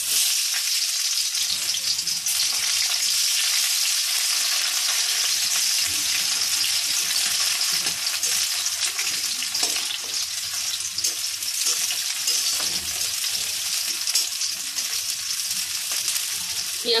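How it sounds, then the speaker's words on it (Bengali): Chopped onion fries in oil over already-reddened chopped garlic, a loud, constant sizzle with occasional stirring scrapes and faint crackles, with no voices over it. "পেঁয়াজটা একটু হালকা ভেজে নেব,"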